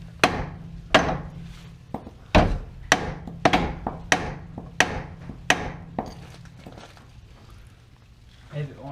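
A hammer strikes a bolt on the tie rod of a Dodge Caravan again and again, about a dozen sharp metallic knocks at an uneven pace, close by and fairly loud.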